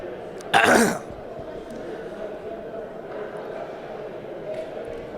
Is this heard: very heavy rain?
no